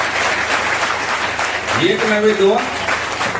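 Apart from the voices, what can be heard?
applause at school event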